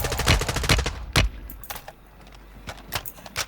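Rapid bursts of Lockwood sniper rifle fire in the Warzone video game, several sharp loud shots in quick succession over the first second, then scattered fainter clicks and shots.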